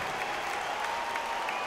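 A crowd claps and cheers steadily at ringside in the boxing video game Undisputed, a dense, even wash of applause filling the whole moment with no voices.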